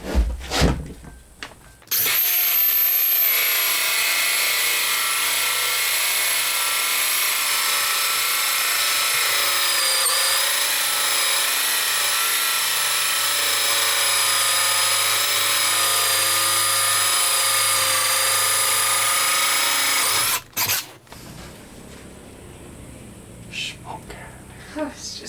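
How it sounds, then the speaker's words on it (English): A power drill bores holes for a toilet vent during a salvaged mobile home rebuild, running loud and continuous for about eighteen seconds before cutting off, with faint room noise around it. "I'm just going to start drilling some holes"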